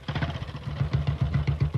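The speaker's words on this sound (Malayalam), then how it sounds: "അവിടെ ബൈക്ക് സ്റ്റാർട്ട് ചെയ്ത ശബ്ദമാ" A motorcycle engine starting and running at close range, a steady low chugging pulse with rapid regular firing beats and light mechanical clatter throughout the short burst.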